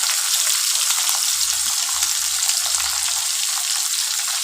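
Pabda fish sizzling steadily in hot oil in a pan, a continuous bright crackle with a few low bubbling patches, close and alone without any voices.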